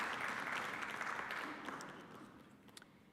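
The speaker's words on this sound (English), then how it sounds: "A round of applause, please." Conference audience at an electoral commissions' annual general meeting applauds with dense, sustained clapping that gradually fades toward the end.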